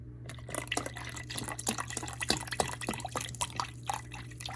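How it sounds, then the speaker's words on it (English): Sauce and beef broth with red wine dribbling and splashing into a pot for cabbage rolls, a run of small drips and trickles over a steady low hum, close and fairly quiet. "So I will put a little bit of sauce, a little bit of the beef broth with red wine"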